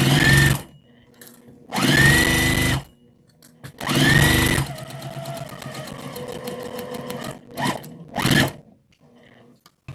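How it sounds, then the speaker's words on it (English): A sewing machine stitches a Christmas car trash bag in short close bursts, about five runs of whirring separated by pauses, one longer steady run in the middle. "line it up, stitch it down, back stitch,"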